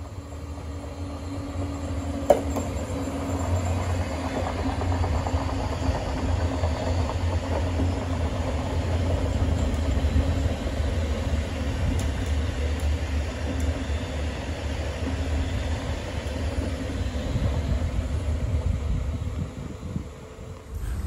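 A double Stadler FLIRT electric multiple unit heading toward Budapest rolls past as a steady, broad rumble that holds for about twenty seconds, with a brief sharp click near the start and no talk over it.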